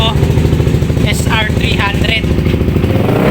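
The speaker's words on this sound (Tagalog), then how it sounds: "Ayan ang testing natin na motor CF Moto" CF Moto SR300 motorcycle fitted with a Villain open pipe exhaust, engine running loud and close with a throaty rapid pulse that rises slightly, while someone talks over it.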